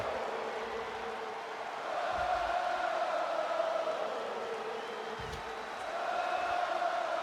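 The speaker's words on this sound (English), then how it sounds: "The visionary himself indulging this crowd as they sing his song." A large crowd singing together in a big reverberant video game wrestling arena, a sustained chorus of many voices swelling slightly louder partway through.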